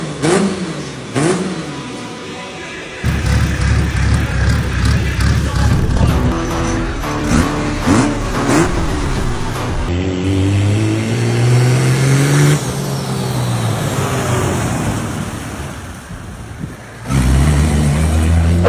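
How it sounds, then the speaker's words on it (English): An off-road built, big turbo diesel Audi A6 with a hood dump revs hard up close, rising and falling through repeated throttle blips into a long sustained roar. "this is an off-road built big turbo diesel Audi A6 with a hood dump."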